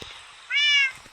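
A single short high meow from a tamed cat in Minecraft, clear and close, alone over a quiet background.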